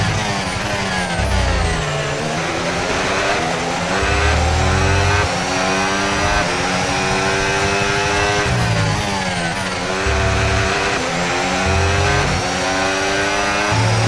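Formula 1 race car engine in the F1 26 video game, its engine not fully fresh, screaming steadily and continuously with rising and falling revs through gear changes, loud and close throughout, with no talk.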